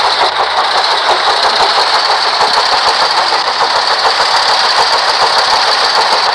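A diesel locomotive engine in an animated train series runs with a steady, loud, throbbing drone that holds constant and close throughout, with no voices over it.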